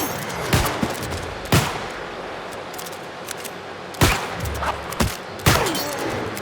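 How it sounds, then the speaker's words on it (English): Musket rifle shots fire in the New World video game, several loud, sharp bangs spaced a second or two apart, each with a short echoing tail over constant background noise. "when you go down into your rifle stance, you get 3 shots without having to reload"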